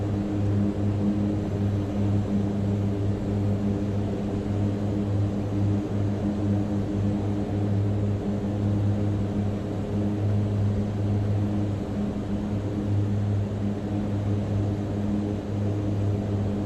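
Steady, continuous drone of a Mitsubishi MU-2 turboprop engine in a flight simulator game, a loud, even hum with strong low tones holding throughout without breaks.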